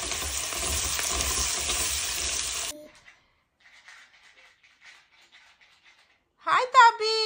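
Vegetables tip into a pot of cooking khichuri with a loud, sustained sizzling and stirring for a few seconds, then near quiet with faint clinks, before a voice and other voices break in at the end.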